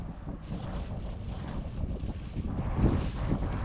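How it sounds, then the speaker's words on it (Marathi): Strong, steady wind buffets the microphone at a petrol pump, a continuous rough low rumble with gusts that swell slightly toward the end, no voices heard. "तर इथं हवा खूप जास्त आहे"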